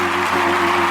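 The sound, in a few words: applause from an adoring crowd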